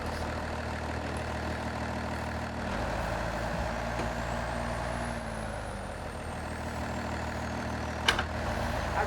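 Truck engine in the SnowRunner video game, a Ram pickup with 4-wheel drive and diff locks engaged, driving on ice in a steady loud drone with a brief sharp spike near the end.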